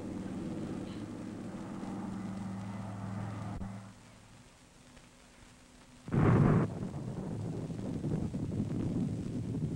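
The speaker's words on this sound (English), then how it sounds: "Now, this is an enemy bomber." Enemy bomber aircraft from a 1956 film, a steady droning engine roar that drops away midway, then a sudden loud burst followed by rumbling noise.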